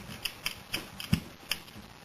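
Steady clicking of a ratchet tightening a bolt during a Quantum sling install, about six crisp evenly spaced ratcheting clicks in two seconds, close and dry with no talking.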